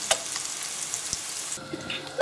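Zander fish fries in oil in a pan, giving a steady, close sizzle with a few sharp pops and a brief stir.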